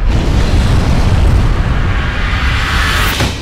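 The Taal volcano erupts with a deep, sustained rumbling roar, heavy and continuous throughout with no clear breaks, and no voices.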